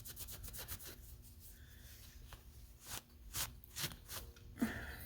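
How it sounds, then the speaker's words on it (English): Wax being rubbed back by hand on a painted wood surface: soft, close scuffing and rubbing strokes in irregular bursts, quiet and alone with no talk. "I'm going to rub it back right away so you can see."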